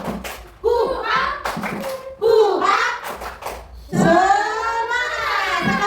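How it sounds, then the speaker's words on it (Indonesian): Children in a classroom chant and clap through a 'tepuk semangat' routine, with bursts of rhythmic hand claps mixed with their voices, close and loud, and a final stretch of sustained group shouting. "mari kita semua berdiri dulu. Kita tepuk semangat sekali lagi."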